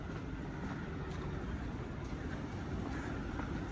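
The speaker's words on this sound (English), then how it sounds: "all the trams run through the city centre" Tram passing along a street in Nottingham, a steady broad rumble and rolling noise that stays loud and close throughout with no clear voices.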